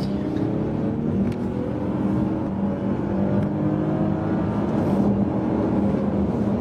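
A BMW X5 xDrive45e plug-in hybrid accelerates along a straight, its engine note a steady, dense drone that stays fairly loud and even throughout, with no talk over it.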